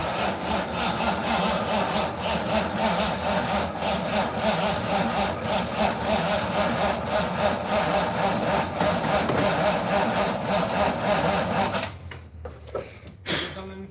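A 1955 Ford Pop engine, started for the first time after more than ten years, runs loud and steady with a rough, even chug for about twelve seconds before cutting out, with faint voices around it.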